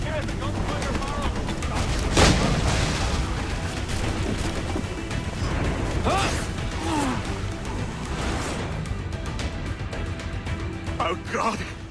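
In Assassin's Creed Black Flag, gunfire and crashes ring out during a shipboard fight: dense, booming shots and impacts pile up under continuous combat noise, with a few sharper bangs standing out.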